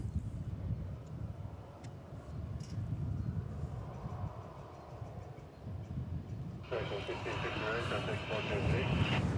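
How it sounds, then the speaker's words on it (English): A Delta Airbus A319 takes off at DFW Airport, a broad roaring engine rumble with wind buffeting that swells toward the end as a whining tone rises over it. "Let's celebrate with the takeoff of a Delta A319."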